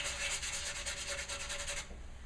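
Hand sanding of a kitchen cabinet door being refinished, a steady scratchy rubbing in quick back-and-forth strokes, close and loud, easing off at the end.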